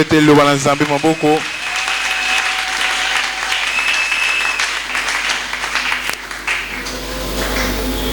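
A church congregation bursts into sustained applause after a brief spoken voice at the start, a dense, loud wash of clapping filling the room for several seconds.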